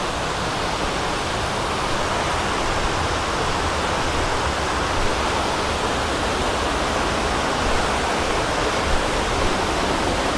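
A waterfall on Sao Miguel in the Azores roars as a constant, dense wash of rushing water, loud and unbroken throughout with no voices.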